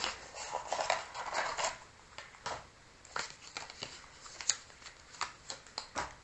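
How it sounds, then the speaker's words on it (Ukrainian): A deck of tarot cards is picked up and shuffled close by. Soft riffling rustles come first, followed by scattered light taps and flicks as the cards are handled, with no talking. "Зараз, друзі, давайте візьму цю колоду."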